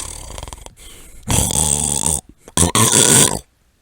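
A person imitates loud snoring, two rough, drawn-out bursts near the mic separated by a short pause, with softer breathy noise before them.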